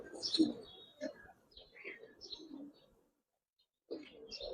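Fitki pigeons at a pigeon seller's give brief coos and chirping calls in scattered close bursts, with a silent gap before a final call.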